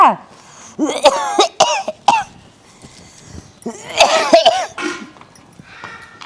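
An elderly woman coughs in several hoarse bursts, with brief throat-clearing and pauses between fits, close and fairly loud.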